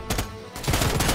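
Short bursts of automatic gunfire crack from Predator: Hunting Grounds, loud and close, with a brief pause between volleys.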